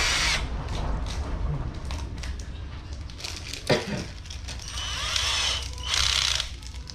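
Power drill enlarging a hole, a continuous whirring, grinding buzz close by with a brief thump midway and brief spoken words in the background.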